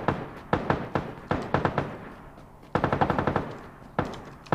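Gunfire in the video game PUBG Lite, with several rapid bursts of automatic shots and a few single cracks, loud and close in quick rhythmic volleys separated by short gaps.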